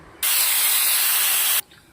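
A pressure cooker boiling toor dal releases a loud, steady jet of hissing steam that bursts out and holds for over a second before cutting off sharply.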